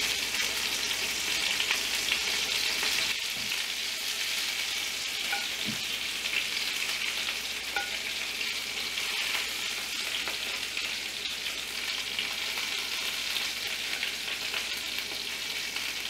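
Breaded gluten-free fish fries in a pan, producing a continuous, even sizzle with occasional small pops, moderately loud and uninterrupted by talk for the whole stretch.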